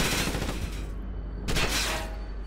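Sustained automatic gunfire in Ghost Recon Advanced Warfighter, a dense rattling fusillade across the whole stretch, with a brief lull before a renewed loud burst.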